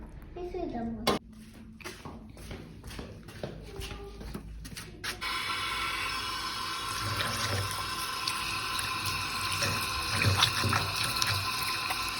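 Water runs steadily from a kitchen tap into a sink while kidneys are rinsed, starting after a second of clattering handling sounds and continuing as a constant close splashing stream.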